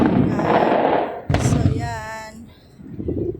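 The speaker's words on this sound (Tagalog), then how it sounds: "May paputok." Firecrackers pop outdoors at the Garden of Serenity in Malta: a sharp, loud burst of cracks stands out against people chatting nearby.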